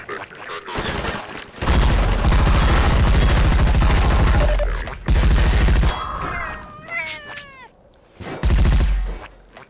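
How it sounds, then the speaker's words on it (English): Rapid bursts of Combine soldier gunfire in Half-Life 2 crackle in volleys, loud and then fading, with heavy booms and a few sharp chirps between the bursts. "Just listen to how a Combine soldier's gunshots change as you drive towards them"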